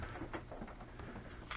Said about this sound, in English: so that is the rain hitting the tin roof,